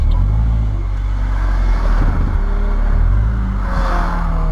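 A Nissan S13 240SX drift car engine revs loud and close, a sustained rumbling roar with rising and falling pitch as the throttle swells and eases throughout.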